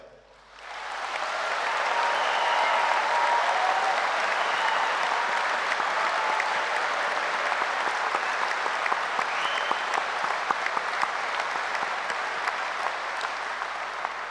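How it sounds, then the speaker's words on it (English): Graduates at a university graduation ceremony give themselves a long, loud round of applause, a thick, sustained roar of clapping that rises quickly and holds steady throughout. "give yourself the loudest applause of your strength your journey, and the recognition that you deserve"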